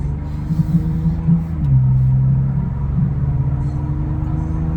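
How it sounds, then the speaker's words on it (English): A truck engine idles steadily with a deep, continuous low rumble, close by, rising slightly partway through. "Can you hear my truck?"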